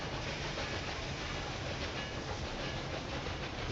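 Trains running in Railway Empire 2 on a route in Spain, a steady rumbling rail roll with faint clickety-clack, continuous and even throughout with no talk.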